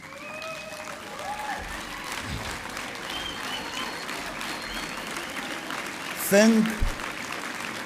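A crowd at the DA Gauteng provincial congress applauds party activists, steady clapping filling the hall while voices call out over it and a speaker briefly talks near the end.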